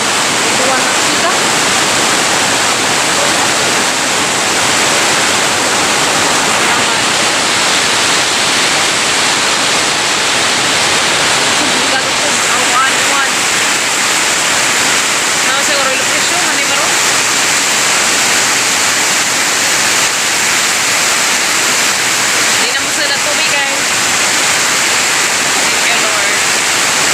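Very heavy rain pours down alongside rushing floodwater near a cattle yard, a loud steady roar filling the whole clip, with voices partly buried beneath it.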